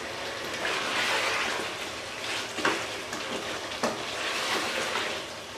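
Mutton curry frying in a kadhai during bhunai, a loud continuous sizzle close up, with a spoon scraping and stirring through the mixture in waves.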